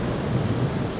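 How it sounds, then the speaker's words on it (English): Steady rain falling, heard as a dense, even broadband wash with low rumble, likely with some wind buffeting the microphone, continuous and fairly loud throughout with no talking. "It's bloody raining."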